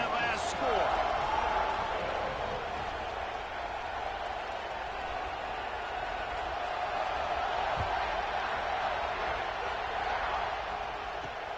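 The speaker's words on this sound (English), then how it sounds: "this crowd is buzzing after that last score" A football stadium crowd keeps up a steady, loud roar and buzz after a score in a Colorado versus OSU game, with a commentator talking over the sustained noise.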